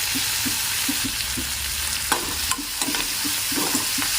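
Vegetables and konda pindi leaves frying in a pan make a loud, continuous sizzle, with regular soft stirring taps and a few sharper scrapes, and no voices.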